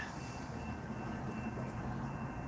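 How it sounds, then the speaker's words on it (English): A train rumbles past at a distance, a steady, faint rolling roar with a broad hiss of wheels on track and no voices. "I hear that train a coming."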